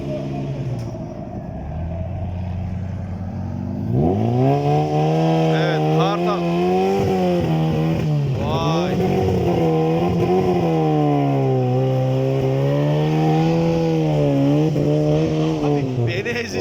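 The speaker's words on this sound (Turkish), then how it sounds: "Grand Cherokee Drift'te arkadaşlar." A Jeep Grand Cherokee drifting at an off-road club event, its engine revving hard and rising and falling in pitch as it slides, loud and continuous, with people talking over it.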